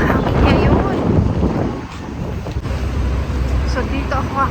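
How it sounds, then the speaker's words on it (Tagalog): Strong wind gusting outdoors on a walk to a hotpot restaurant, a loud steady roar buffeting the microphone, with brief human sounds mixed in. "Malakas ng hangin ngayon."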